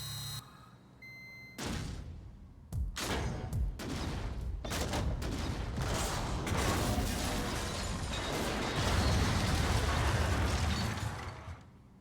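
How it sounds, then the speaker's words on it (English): Robots blowing up one after another at the end of a self-destruct sequence in Mass Effect 2, a rapid string of loud blasts and crackling bursts merging into a sustained roar of explosions, with no voices. "Self-destruct sequence activated. All robots exploding in 3,"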